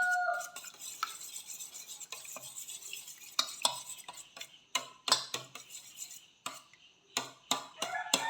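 A spoon stirs chicken masala in a pan with ground cardamom and pepper, giving steady scraping and knocking at close range with a faint sizzle underneath and sharper clinks toward the end.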